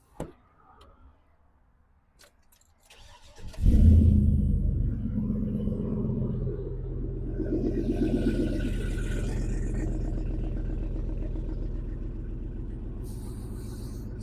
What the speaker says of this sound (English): Got a killer nice exhaust system.